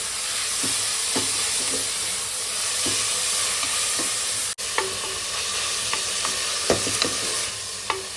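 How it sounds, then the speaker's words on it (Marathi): Chopped onion frying with whole spices in a pan, a steady loud sizzle and hiss with occasional scraping taps of a stirring spoon, no talking. "हे बघा कांदा टाकलेला आहे चॉप केलेला कांद्याला शिजवून घ्यायचे आपल्याला"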